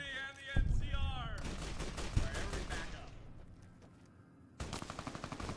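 Rapid automatic gunfire bursts out in Fallout New Vegas inside a bunker, dense chattering shots with a pause before another close, loud burst resumes, mixed with in-game sounds.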